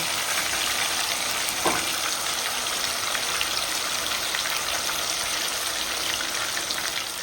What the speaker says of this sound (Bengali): পিস করে আমি মাছটা ভেজে নেব।